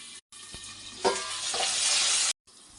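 Ingredients for a drumstick and lentil sambar sizzling loudly in a hot pan, with a spoon scraping and stirring through them, close and continuous before a sudden stop, no voices.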